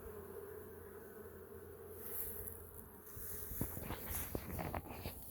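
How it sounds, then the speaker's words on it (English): Honey bees in a Florida bee yard hum steadily nearby, a continuous droning buzz with occasional louder passes and faint rustles. "I'll show you a little bit about what these bees are doing."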